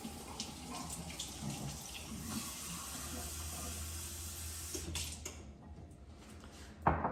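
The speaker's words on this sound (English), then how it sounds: "I'm going to heat it up to room temperature by putting some warm water in it." Warm water runs steadily from a tap over a cold egg in a kitchen sink, a continuous close hiss and splash that tapers off near the end with a brief clunk.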